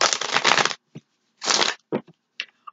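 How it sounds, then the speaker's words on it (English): Tarot cards are shuffled by hand in a few quick riffling bursts separated by short pauses, ending in soft taps and clicks, close and clear with no talking. "Let me give this a couple shuffles."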